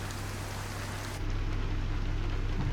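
Steady rain on a truck in American Truck Simulator, a dense, even hiss with a low rumble, loud and continuous, shifting slightly in tone partway through and with no talking.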